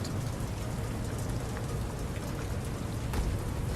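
Rain in a first-person shooter game falls as a steady, dense hiss of drops that holds at an even level throughout, with no voices over it.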